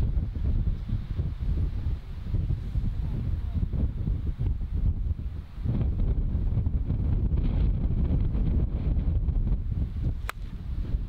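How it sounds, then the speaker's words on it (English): Strong wind buffeting the microphone on a golf course at Staddon Heights, a heavy continuous rumbling roar with gusty swells lasting throughout. "Wind is still strong."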